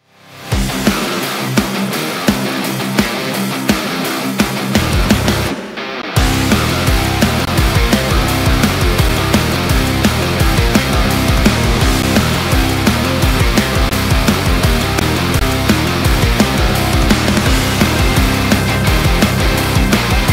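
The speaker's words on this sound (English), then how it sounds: "I want to play some swamp music on my three-string Cigar Box guitar" Three-string cigar box guitar playing swamp music with steady rhythmic strumming and a driving beat, loud and dense throughout after a short pause near the start, with no talking.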